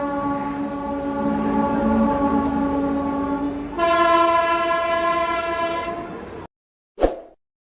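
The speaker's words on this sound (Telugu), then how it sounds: "ఇది విశాఖపట్నం నుంచి గుంటూరు వెళ్ళే సింహాద్రి ఎక్స్ప్రెస్" The Simhadri Express, a passenger train running between Visakhapatnam and Guntur, sounds a loud sustained horn blast that shifts to a higher, harsher tone midway, cuts off after about six seconds, and is followed by a short heavy thud.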